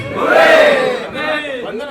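Crowd at a product unboxing event shouts a cheer for Oppo, a loud rising and falling chorus of many voices, followed by a second shorter swell.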